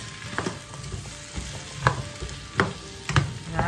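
Squash and garden runner beans sauté in a pan with a steady sizzle, broken by several sharp stirring scrapes and clacks at irregular intervals, close and fairly loud.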